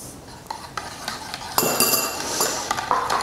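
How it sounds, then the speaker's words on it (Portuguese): Cake batter with demerara sugar being stirred in a bowl for a gluten-free rice flour cake, with repeated clinks and scrapes of a utensil against the bowl, close and moderately loud, with no speech. "Agora vamos mexer bastante aqui"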